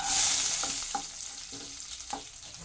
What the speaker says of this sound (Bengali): এবার এই তেলের মধ্যে আমি দিয়ে দিচ্ছি রসুন কুচি